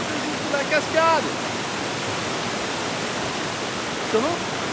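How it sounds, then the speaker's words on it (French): Steady broadband rush of water falling under a cascade, a loud continuous roar that fills the scene, with brief voices cutting in near the start and end. "La scène se joue sous la cascade."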